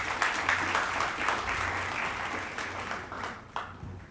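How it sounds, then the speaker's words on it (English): Audience applause fills the room at a Minneapolis campaign kickoff event in 2016, a steady wash of clapping held for about four seconds with a few sharper claps near the end, fairly close and full. "Let's give them a hand of applause,"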